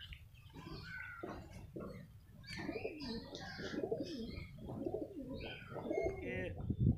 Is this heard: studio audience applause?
no